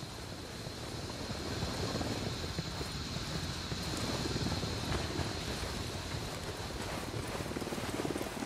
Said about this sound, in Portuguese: Helicóptero se aproximando.